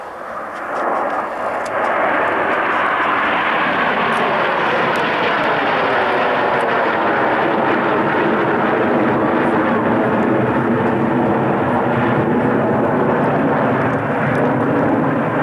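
Red Arrows jets pull up in formation for a Concorde roll at an airshow at RAF Coningsby, 1992; a heavy, continuous jet roar swells early and then stays loud and sustained.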